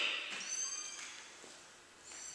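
A cat meows in a home, with thin high cries close by over quiet background hiss. A few brief meows are spread across the short stretch.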